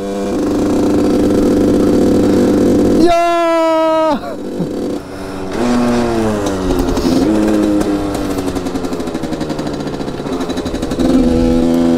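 A RIJU MRT 50 moped engine in third gear, steady and loud, its pitch climbing as it revs, dropping sharply, then rising again in wavering pulls over about twelve seconds.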